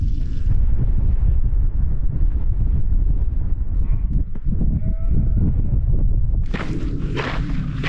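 A sheep bleats amid heavy, rumbling wind noise outdoors on Kinder Scout moorland, the call brief and partly buried under the gusts.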